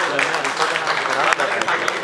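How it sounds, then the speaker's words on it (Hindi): Audience applause at a stage show launch with a birthday celebration, dense clapping that runs throughout while voices carry over it. "एक बार जोरदार तालियां बजाइए इसका स्वागत करें।"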